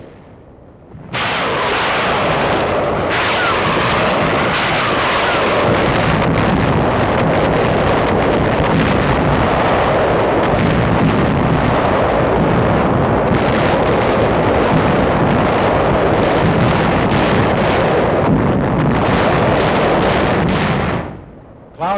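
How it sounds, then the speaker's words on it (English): Naval and aerial bombardment before the 1945 Balikpapan invasion: a dense, continuous rumble of artillery fire and explosions, loud and broadband, with heavy wind-like roar throughout, fading out at the end. "taking part in the intense aerial and naval bombardment which preceded the invasion"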